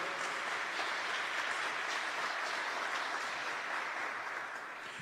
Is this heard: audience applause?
yes